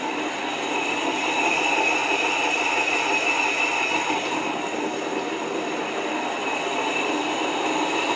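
Metal lathe turning a steam engine valve sleeve with a metal chip caught between the cylinder and the wheels, producing a continuous grinding, hissing whine with a high ringing tone and faint irregular scraping, steady and close.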